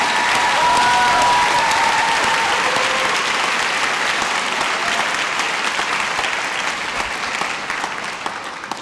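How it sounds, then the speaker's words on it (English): Graduation audience at the NYU Wagner convocation applauding parents, a dense, steady burst of many clapping hands that stays loud throughout and eases off slightly toward the end, with no talking over it. "Give a round of applause for the people who helped you get here and who believed in you."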